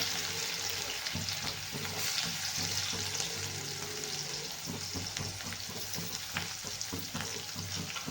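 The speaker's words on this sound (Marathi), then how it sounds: "लसूण लाल झालेला आपण कांदा टाकून घेऊया" Onion and garlic frying together in a pan, a steady dense sizzle with occasional stirring scrapes running throughout, close and continuous with no talking.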